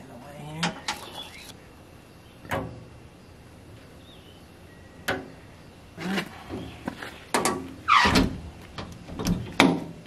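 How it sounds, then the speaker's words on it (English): A compartment door on a service truck is worked by hand: several separate metallic clunks and latching knocks spaced across the stretch, louder toward the end, with occasional quiet talk. "let me see how the door is going to close"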